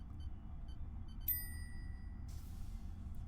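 A small kitchen cooking timer in The Sims 4 gives a single clear ding with harmonic overtones that ring out for about a second, over a quiet low background hum.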